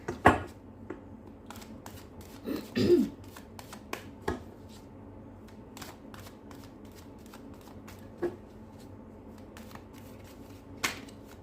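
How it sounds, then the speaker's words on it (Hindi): Tarot cards shuffled and drawn by hand, giving a series of short papery flicks and riffles, one denser burst early on and sparse single snaps after, close and fairly quiet with no talk. "अब हम ये देखते हैं, आखिरी कार्ड निकालती हूँ"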